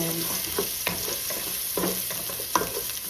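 Chicken, garlic and onion sauté in a pan for pancit, a continuous bright sizzle broken by spoon scrapes and knocks against the pan, close and fairly loud, with no talking.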